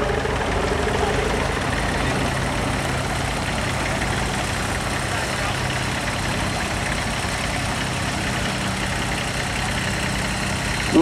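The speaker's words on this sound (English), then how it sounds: "The International 414 diesel, four-cylinder diesel." An International 414 four-cylinder diesel tractor engine runs steadily at idle in a show arena, a continuous low rumble with no change in pace.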